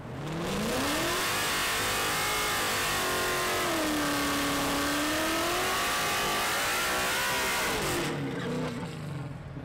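A Ford Maverick pickup truck accelerating away, its engine revving up and shifting through rising and falling tones, loud and steady before cutting off near the end.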